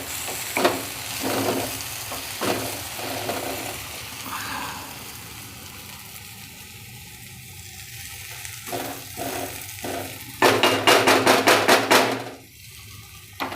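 Onion-pea kachori filling stirred and mixed in a frying pan, a spoon scraping and clattering against the metal over a soft sizzle, ending in a burst of rapid, sharp taps.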